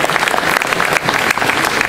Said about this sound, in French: Alors on peut quand même l'applaudir fort.